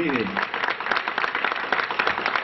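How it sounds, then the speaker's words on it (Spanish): Crowd applause for the governor of Santander at a municipal ribbon-cutting ceremony, a busy, continuous patter of clapping, with a brief tonal sound at the very start. "Quiero que le demos un fuerte aplauso al gobernador de Santander"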